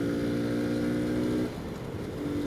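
A Kawasaki Z125 Pro motorcycle fitted with a heavy-duty clutch spring, engine droning steadily then dropping in pitch as it downshifts into a turn, with wind rush throughout.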